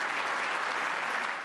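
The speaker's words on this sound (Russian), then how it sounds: "Выступая накануне перед республиканцами, сорвала овации." A steady wash of ovation from a Republican audience for Theresa May's speech, dense crowd clapping heard mid-stream for a moment without talk.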